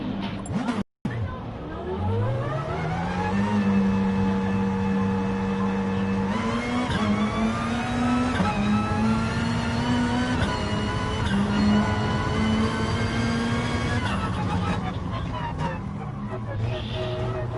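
A loud race car engine in Gran Turismo Sport at Laguna Seca revs up from a brief cut, climbing through gears and holding a high whine, with a voice briefly talking over it.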